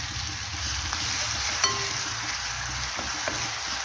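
Green chillies sizzle and crackle in hot oil with garlic in a pan, a soft, steady frying hiss with a few small pops, close up and without talk.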